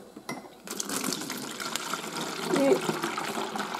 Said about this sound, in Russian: Дальше этот квас нужно разлить по бутылкам.